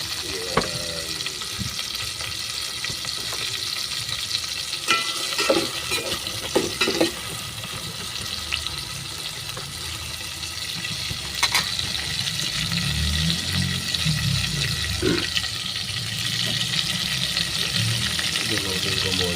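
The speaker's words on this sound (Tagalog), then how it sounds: "Yan, nagigisa-gisa na ako." Onions or aromatics being sautéed in a pan while cooking shrimp sinigang, a steady close sizzle with occasional scraping stirs of a utensil throughout.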